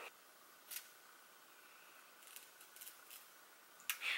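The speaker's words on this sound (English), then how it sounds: "Okay, so I have cut the nylon off" Scissors snipping the small nylon piece off the root of a synthetic wig, a few faint, sharp metallic snips spaced apart over a quiet hiss, with no one speaking.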